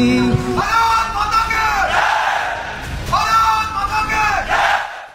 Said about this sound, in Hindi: प्रधानमंत्री नरेंद्र मोदी पहुंचे, भारत माता की जय के नारे के साथ स्वागत किया गया